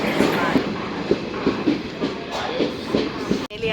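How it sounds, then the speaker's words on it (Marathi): A special long-distance express train on the Kudal to Mumbai route pulls into a station, its wheels clattering over rail joints in a steady clickety-clack rhythm, loud and close, with faint voices in the background. "सो फायनली आपली ट्रेन आता आलेली आहे, तुम्ही बघू शकता."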